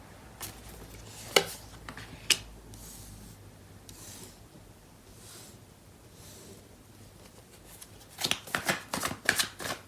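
Tarot cards are shuffled and handled in a quiet room, giving soft papery rubbing, a few sharp riffle snaps early on and a denser burst of crisp card flicks at the end.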